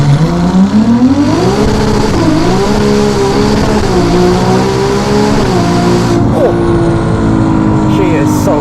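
A Ferrari 296 GTB hybrid fitted with a Novitec exhaust accelerating hard from inside the cabin, engine pitch climbing steadily through gears with brief dips at shifts, loud and close, with a voice speaking over it.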